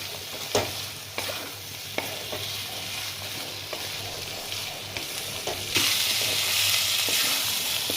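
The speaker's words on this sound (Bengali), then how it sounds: "আমার মশলা ভাজাটা হয়ে গেছে পটলের সঙ্গে" Spices and pointed gourd (potol) fry in a pan for a korma, a steady soft sizzle punctuated by occasional clicks of stirring, rising slightly near the end.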